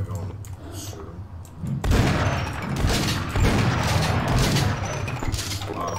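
Rapid gunfire in the horror game Afraid of Monsters, a sustained burst of loud shots and crashing impacts that erupts after a quieter stretch, with voices talking over it.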